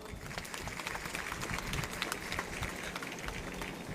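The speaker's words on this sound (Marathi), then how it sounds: "विद्यार्थिनींनी जोरात टाळ्या वाजवा." Schoolgirls clap together at a public event, a dense and continuous patter of applause that stays fairly distant and even in level.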